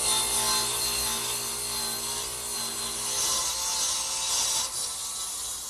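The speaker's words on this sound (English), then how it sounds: "actually cut the angle on the side pieces, which I'll do over here on the radial arm saw" A radial arm saw set at an angle of about 40 degrees cuts through a wooden side piece for a writing desk, giving a steady, loud, broadband whine that holds for several seconds with no talking.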